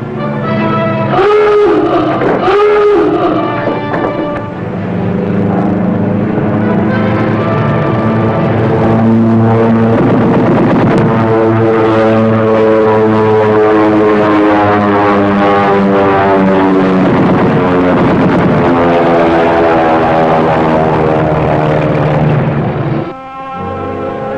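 A propeller aircraft passes overhead near a submarine at sea: a loud, steady droning roar with layered engine tones that holds for the whole stretch, then drops off briefly at the end, with no talking.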